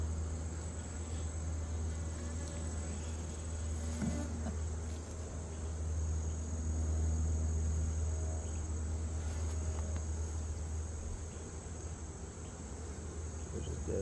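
Honey bees around an open hive during a fall inspection make a steady, close insect drone, with a constant high buzz over soft rustling. No one talks.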